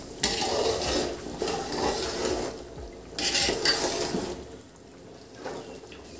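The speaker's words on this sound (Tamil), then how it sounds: "தண்ணி நல்லா கொதிக்குது." Water boils hard in a pot while biryani is being made, giving a loud, hissing bubble broken by metallic clinks and stirring.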